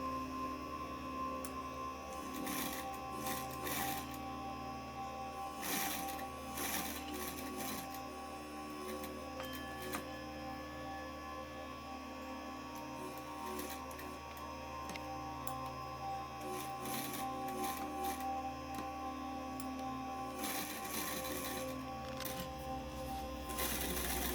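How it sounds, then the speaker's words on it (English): A sewing machine stitches fabric parts of fox fur mittens, a steady mechanical whir running throughout with repeated louder surges, close and continuous without talk. "Now you need to sew together the fabric parts of the mittens top"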